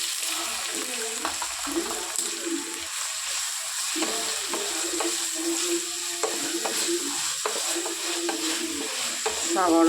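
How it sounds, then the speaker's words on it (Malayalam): Sliced onions sizzle in hot coconut oil while a spoon stirs them, a constant frying hiss broken by soft scraping strokes and occasional clinks, close and moderately loud. "സവോള വഴന്ന് വരുന്നവരെ ഇളക്കി കൊടുക്കാം"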